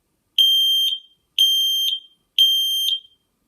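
A Nest Protect smoke alarm sounds during its smoke test, emitting three identical loud, piercing half-second beeps evenly spaced in an otherwise silent room.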